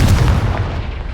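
A Confringo fire spell blasts in Hogwarts Legacy, a single loud, close, booming burst with a heavy low rumble that decays within about a second, with no talking.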